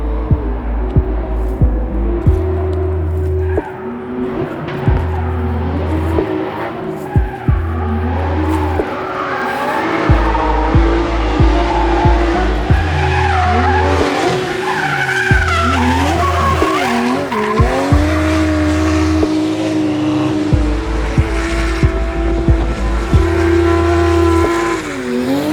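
Toyota Supra drifting on a street in Sochi, tires skidding and squealing in long wavering screeches over a loud revving engine, close and continuous, with rhythmic thumping music underneath.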